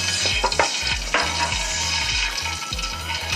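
Spice-marinated chicken for korma fries in hot oil over a full flame: a constant close sizzle with repeated scraping stir strokes, no talk.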